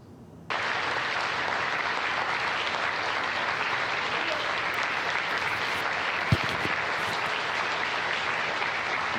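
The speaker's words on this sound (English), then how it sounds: "That was quite an applause" Steady, dense applause fills a flight control room after the Artemis II landing. It starts abruptly within the first second and holds at an even level, with one sharp knock partway through.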